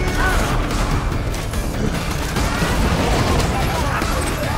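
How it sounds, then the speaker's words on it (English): Dense, continuous crashing blasts from grenade explosions in Borderlands 2, loud and sustained with rumbling low end and clattering debris throughout. "Oh, we chucked two grenades now?"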